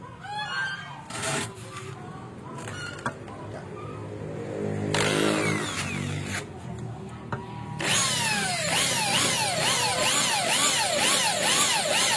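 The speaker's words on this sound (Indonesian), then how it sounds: "Saya akan mereview cara mengebor besi." A power drill whines in bursts, then grinds steadily into iron plate with a high screeching edge, loud and close.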